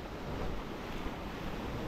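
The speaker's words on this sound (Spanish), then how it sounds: "Que está dando con fuerza la última ola" Ocean surf breaks on a sandy beach strewn with sargassum seaweed, a dense steady wash of waves mixed with wind noise, fairly quiet and without speech.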